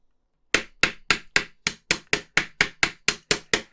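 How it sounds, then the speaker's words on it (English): A small hammer taps twelve times in a steady, even rhythm after a moment of silence, each strike sharp and close with a quick ringing decay, seating a part on a Mitsubishi A6M Zero fighter scale model. "I'm using my hammer here just to help me get that all the way to the bottom"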